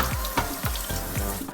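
Cooked pasta for a Jamaican pasta salad is rinsed under running tap water in a kitchen, giving a steady close splashing stream broken by a few soft sloshes as the pasta is tossed.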